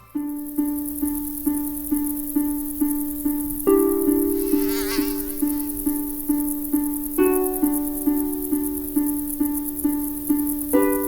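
Loud mosquito buzzing runs throughout, a high, steady whine set against a rhythmic pulsing tonal beat that repeats several times a second.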